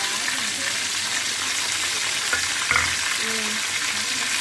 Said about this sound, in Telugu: అలానే ఆకులు బిర్యానీ ఆకులు ఫ్రై కూడా వేసుకున్నాం అలానే అల్లం వెల్లుల్లి పేస్ట్ వేసుకొని తీసుకున్నాం